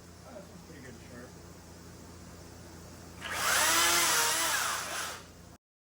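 Near the end, a chainsaw cuts wood at chest level in a loud, roaring burst of about two seconds. Quieter background sound and faint earlier activity come before it.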